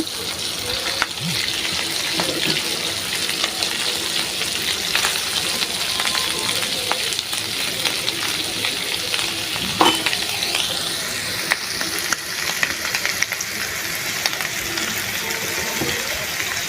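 Meat fries in a pan with a loud, dense sizzle that holds steady throughout, broken by a few stirring knocks and a brief watery splash.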